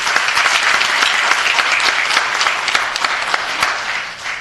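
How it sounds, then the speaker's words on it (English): Dense, close applause from the crowd at a city council meeting, many hands clapping together at a steady level for a few seconds before easing slightly. "let's give all these folks a round of applause"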